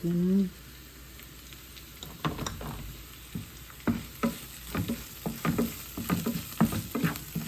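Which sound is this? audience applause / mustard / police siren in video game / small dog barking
mustard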